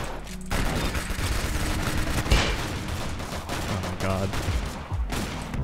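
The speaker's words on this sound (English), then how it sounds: "Spaz 12. Shotgun. Automatic shot." Rapid automatic Spaz 12 shotgun fire in the Roblox game Arsenal rattles almost continuously in dense bursts, with a voice briefly exclaiming over the shooting.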